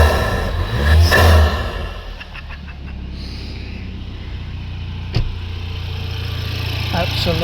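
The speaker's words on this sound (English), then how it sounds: "Let's just do a bit of a rev test." MG HS 2-litre engine fitted with a custom air intake, revving close up; a broad engine swell around the first second, then a steadier rumbling hum with a brief sharp transient midway.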